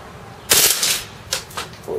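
KWC Desert Eagle CO2 airsoft pistol firing on full-auto, a sharp rapid burst of close, loud shots followed by a few quicker separate pops.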